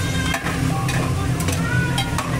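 Turmeric is stirred into food in a hot pan, with a continuous close sizzle and several distinct scraping strokes of the spoon against the pan, and no talking.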